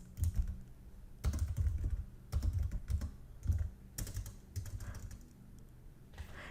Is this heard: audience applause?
no